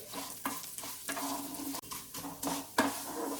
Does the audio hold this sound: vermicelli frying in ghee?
yes